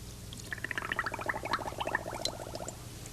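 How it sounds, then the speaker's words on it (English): Coffee poured from a jug into a cup while air is blown down a long drinking straw held in it, producing quick, faint, irregular bubbling gurgles close by for a few seconds. "As soon as I hear the bubbling sound, I know that the level of the coffee has reached the end of the straw"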